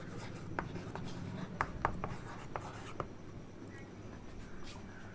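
Marker or chalk scratches across a board in short strokes and taps, a quiet series of squeaky scrapes with brief pauses between letters, close and without talking.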